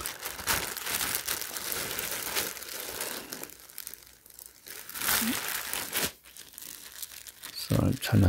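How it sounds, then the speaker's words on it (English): Clear tape on a plastic bag holding a clothing tee being handled, with loud crinkling and tearing rustles that come and go, then a brief voice near the end. "I'm trying not to mess up the tape or the bag."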